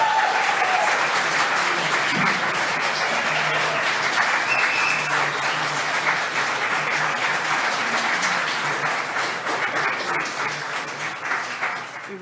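Members of the public at a city council meeting applaud with loud, sustained clapping that holds steady and then thins out toward the end.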